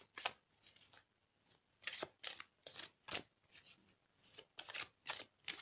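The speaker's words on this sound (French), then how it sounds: "on va prendre une carte de l'amour universel pour compléter un petit peu le tirage" Tarot cards are shuffled and drawn in a quiet room, producing repeated short riffling bursts and soft slaps in an uneven rhythm, close and fairly faint.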